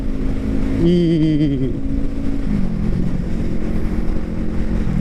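Yamaha MT-03 motorcycle with a new free-flow exhaust revving up sharply, engine pitch climbing and wavering before settling into a steady loud drone with road rumble, a brief voice underneath.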